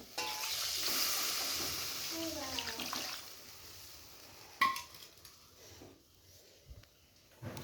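Water poured into a hot pan of frying fish and pointed gourd curry gives a loud hiss and splashing burst that settles to a quieter simmer, with a clatter of a utensil and faint voices in the background.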